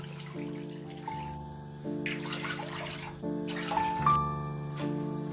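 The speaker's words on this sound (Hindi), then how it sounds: "5 से 6 कप में इसमें पानी डालूंगा" Water poured into a small pan of sugar for syrup, a splashing, bubbling stream that starts and stops in a few bursts, close and fairly clear over a faint humming background, no talk.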